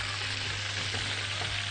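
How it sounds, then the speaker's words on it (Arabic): A small amount of oil, about a spoonful, spread across a hot frying pan for fruit pancakes sizzles and hisses steadily and close, with no break. "هبدا اضيف شويه من الزيت صغيرين، حوالي معلقه كده، وامشيها واوزعها كويس قوي في الطاسه."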